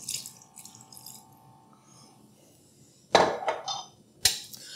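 Liquid is poured over beef for pepper steak, heard as faint drips early on, then two short, close splashing pours. No voices.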